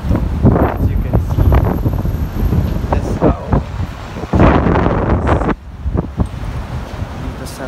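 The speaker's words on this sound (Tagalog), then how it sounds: "sobrang hangin." Strong wind buffets the microphone outdoors in Hong Kong near a harbourside mall, a loud, continuous roar with gusty surges throughout and no clear talk.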